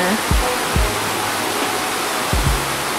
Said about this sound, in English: then the river is right down here.